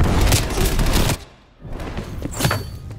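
Two close gunshots in Call of Duty Black Ops Cold War on the Nuketown Holiday map: loud bursts of firing, then a brief lull, then another sharp crack, with no voices.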